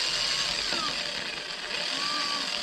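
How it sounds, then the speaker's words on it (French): A Parkside power drill runs continuously while drilling, a steady, loud, high-pitched whir filling the moment with no speech. "Je vais te montrer avec la perceuse ce que ça donne."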